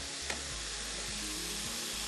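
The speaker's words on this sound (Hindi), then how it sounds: "ये गए आलू। अच्छे से कर लेंगे सौते तीनों सब्जियों को।" Raw potatoes and vegetables sautéing in a pan for prawn karahi give off a continuous loud sizzle, close up, with faint stirring scrapes and no talk.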